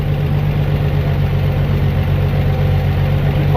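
A 1952 Chevrolet 6400 truck engine with a carburetor that needs tuning idles steadily and loudly up close, a deep continuous rumble with no pauses or talk.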